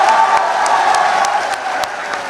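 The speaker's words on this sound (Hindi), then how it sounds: "और यार आपके लिए बहुत सी तालियां आप लोगों की।" Applause and cheering from an audience at an Urdu poetry recital fill the space, a dense wash of clapping with a few sharp claps standing out and some voices mixed in.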